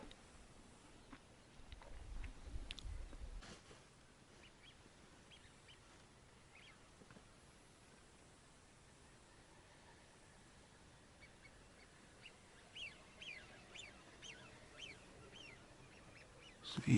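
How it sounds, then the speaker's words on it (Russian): Male diving duck calling on a spring hunt, with faint scattered quacks over a low outdoor hush, a rumble early on and clearer calls near the end. "Дождались мы свою утку."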